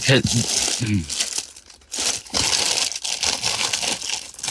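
LEGO foil packs crinkle loudly up close as they are tossed into a bin, with bursts of crumpling plastic and rustling while someone talks over them.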